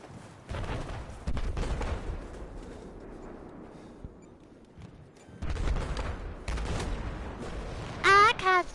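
Booming gunfire and explosions from a Battlefield 4 match come in loud bursts over a low rumbling battlefield, with a voice speaking briefly near the end.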